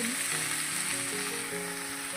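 Mixed vegetables sizzle steadily as they fry in a hot wok, a dense, continuous crackling hiss that stays loud and close throughout, with no talking.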